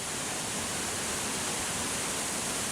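Mae Pan Falls, a multi-tiered waterfall in the Chiang Mai jungle, roars as a dense, unbroken wall of rushing water, loud and close with no other sounds.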